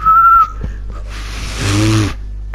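A character in the video game A Way Out whistles: one short, clear, loud whistle at the very start, followed by a dull broadband rush of game noise.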